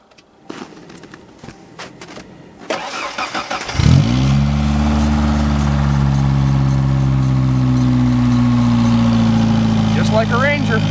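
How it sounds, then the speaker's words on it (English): A red two-wheel-drive Ford Ranger pickup in deep snow cranks over in a cold start, catches with a loud rising roar, then settles into a steady, close, rumbling idle, with a voice speaking briefly over it. "So we'll go ahead and fire it up. Should fire right up."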